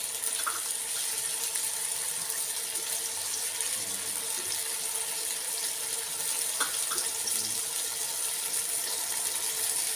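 Water gushes steadily from a tap into a cooking pot for rice with fava beans, a loud, continuous splashing stream that holds the same level throughout with faint kitchen clatter.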